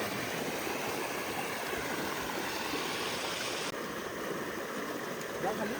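A flowing river beside a village rushes in a constant, broadband wash of water, close and steady throughout with no talk over it.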